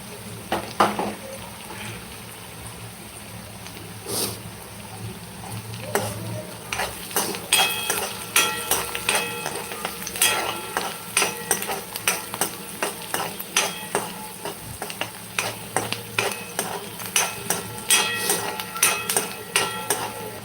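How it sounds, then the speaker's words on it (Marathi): Dry peanuts roasting in a pan in a Maharashtrian village kitchen, a spatula scraping and clinking in uneven bursts that grow busier over about twenty seconds, with a soft hiss underneath and no talking. "शेंगदाणे पण सोबत चांगले भाजून घ्यायचे आहे"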